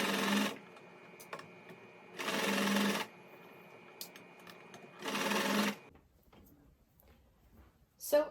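Short bursts of a sewing machine hemming a medical cap, three separate runs of rapid stitching, each about a second or less, close-up and clear with quiet gaps between them.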